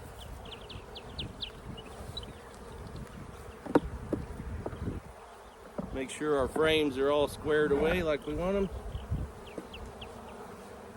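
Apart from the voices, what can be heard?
honey bees buzzing around an open beehive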